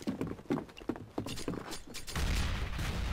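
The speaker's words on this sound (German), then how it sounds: "die Desert Eagle, die kann auch so einzelne Schüsse" Gunfire from the Desert Eagle pistol in Counter-Strike: Global Offensive, a string of sharp single shots in a fairly quick rhythm, followed by a denser burst of noise toward the end, fairly quiet overall.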